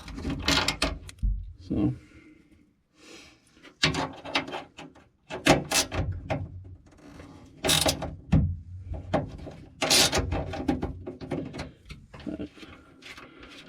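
A 10mm stubby flex head wrench works bolts loose inside a 2018 Honda Accord, giving close, repeated bursts of clicking ratchet and metallic clatter separated by short pauses, with one brief spoken word.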